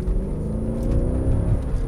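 A 2007 Mercedes-Benz E63 AMG W211 accelerates hard, its engine roar rising loud and close in a continuous heavy drone with no talking.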